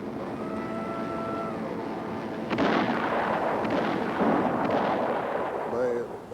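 World War II anti-aircraft guns, radar-directed, firing: heavy rumbling booms of distant artillery begin partway through and continue steadily, with a voice speaking beneath and before them.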